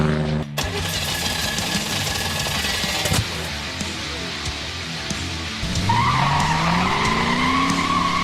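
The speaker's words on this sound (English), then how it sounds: "This is a Hellcat powered Jeep." Hellcat-powered 2021 Jeep Gladiator with a 700 horsepower engine, loud and close, rumbling hard with tire skid and spin, then rising sharply in a revving surge near the end.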